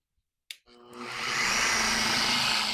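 Car polishing machine switched on at speed 1: a sharp click, then the motor whirs up over about a second into a steady, close, broadband whine, with no talking.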